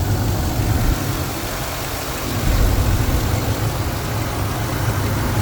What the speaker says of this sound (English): engine is running just beautifully